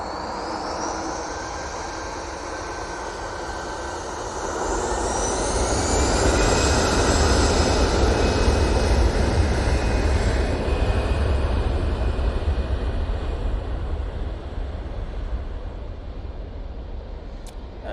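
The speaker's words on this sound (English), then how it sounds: "once this Easyjet takes off" An easyJet airliner taking off at Manchester Airport builds from a rising whine to a loud, close roar with climbing tones, then holds a sustained thunderous rumble before easing slightly, with no voices.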